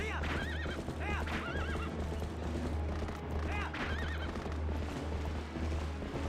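Horse neighs and whinnies repeat over steady clip-clopping hoofbeats while riding in the Zelda: Twilight Princess video game, with continuous game music and effects underneath.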